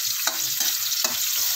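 Pechay stir-fry sizzles in a hot pan as oyster sauce goes in, a steady crackling hiss broken by a couple of soft stirring scrapes.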